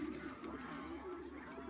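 Pigeons cooing softly in a loft where pigeon chicks and eggs sit, a low continuous murmur of coos, fairly faint and without clear talk.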